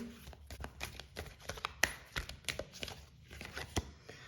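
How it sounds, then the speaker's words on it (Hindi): Oracle cards drawn and shuffled from a deck, producing a quick series of close, crisp paper flicks and soft slaps in an irregular rhythm, with no voices. "Let me just pull some oracle cards for you."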